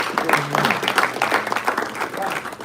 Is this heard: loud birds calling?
no